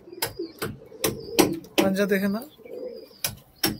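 Beauty pigeons, a reddish-tinged fancy breed, coo in soft repeated bursts close by, with someone talking over and between the calls.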